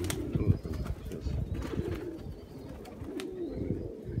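Pigeons cooing close by in a loft or yard, several soft low throaty coos repeating unevenly over a few seconds, with faint rustling and wing sounds mixed in.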